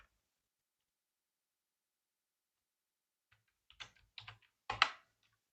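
Short bursts of keystrokes on a computer keyboard while writing code for a Node/Express app, quiet at first and then a few clustered clicks near the end in a silent room.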